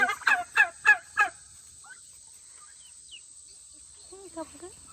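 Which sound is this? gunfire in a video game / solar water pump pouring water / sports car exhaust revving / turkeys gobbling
turkeys gobbling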